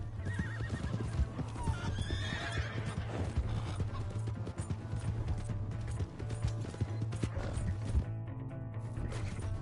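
Horse hooves clip-clop steadily while a horse whinnies in Red Dead Redemption 2 on PS4, mixed with faint mechanical clatter and a low background hum.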